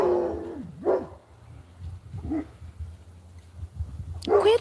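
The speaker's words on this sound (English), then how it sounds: "Quit barking at the neighbors." A dog barks and yelps in a few separate bursts, fairly close, with a low hum and quieter whimpering sounds between the barks.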